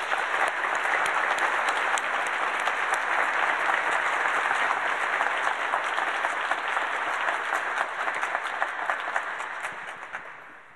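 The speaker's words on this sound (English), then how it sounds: "why don't we give them a big round of applause?" An evening audience at a climate change talk gives the speakers a big round of applause, a dense, even wash of clapping that holds strong before tapering off at the end.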